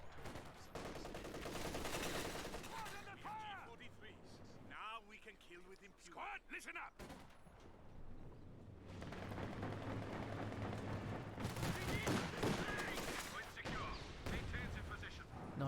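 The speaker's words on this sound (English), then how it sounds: "Nice long range assault there from the Raketenwerfer." A Raketenwerfer in Company of Heroes 2 fires rocket salvos, a burst of booming blasts mixed with battlefield gunfire and explosions, while commentators talk over the din.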